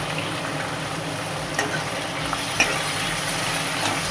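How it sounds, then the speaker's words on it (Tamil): Onion and garlic sauté in a pan for a Chennai-style vadacurry, a steady close sizzle with occasional scraping stirs and small clinks, no voices. "எல்லாத்தையும் சேர்த்துட்டு நல்லா வதக்கணும்."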